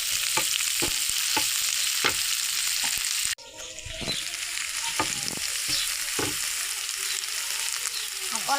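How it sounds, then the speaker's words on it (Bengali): Green chilies frying lightly in oil in a village kitchen, a steady bright sizzle with intermittent scraping stirs, briefly dipping mid-way before resuming close and continuous. "হালকা করে একটু ভেজে নেব।"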